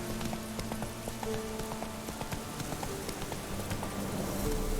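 Roach the horse gallops in The Witcher 3, steady rhythmic hoofbeats clopping along at a quick pace under a constant low wash of ambient game sound, fairly faint overall.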